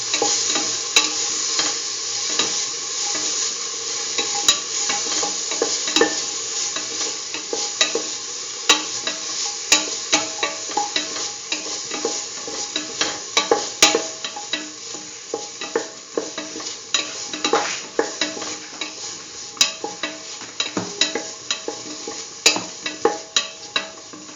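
Lentil and potato stew mix sautéing in a pan, with a continuous loud sizzle of frying and frequent scraping, knocking stirs of a spoon against the pan throughout.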